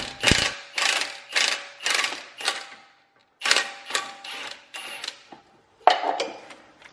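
A 17 mm wrench works the front end link nut on a BMW E90 3 Series strut: a run of sharp, close metallic ratcheting clicks in short bursts separated by brief pauses.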